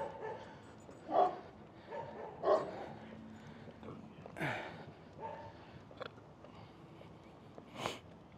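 Dogs on a street bark and yip in scattered short bursts at mid distance, mixed with whimpers, sniffing and quiet background street noise.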